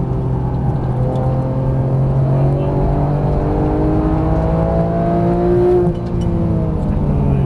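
A Porsche GT3 on a Las Vegas race track, its engine droning loud and close from inside the car with a steady rising whine of several pitches, then a brief dip as the throttle eases near the end.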